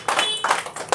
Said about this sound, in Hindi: चलिए, गनौजी टूथपेस्ट के लिए भी ज़बरदस्त ताली होना चाहिए